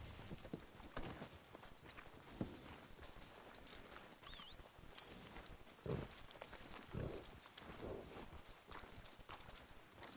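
Steady clip-clop of horse hooves walking at a relaxed pace in Red Dead Redemption 2, fairly close, with a few louder hoof strikes standing out over a soft background.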